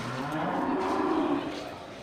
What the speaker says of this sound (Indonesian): ini sapi berangus biasanya persilangan dengan sapi atau indukan dari jenis sapi lainnya